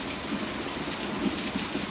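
Heavy rain pours down steadily, a dense, even hiss of drops striking surfaces close by, with no voices and no break in the downpour.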